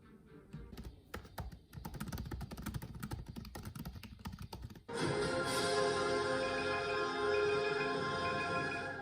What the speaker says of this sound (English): I'm gonna go to a writing sprint with typing.